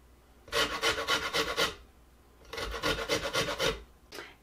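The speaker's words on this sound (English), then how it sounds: "Now I'm gonna do the zest of 1 or 2 oranges" Orange peel being zested on a grater for fire cider, two rhythmic rasping bursts of quick back-and-forth scraping, close and clear with a pause between them.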